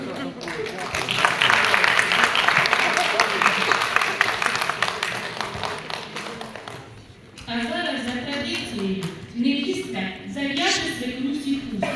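Applause from a gathered crowd greets a couple at their golden wedding anniversary on a bridge, steady dense clapping for several seconds before it fades and voices take over.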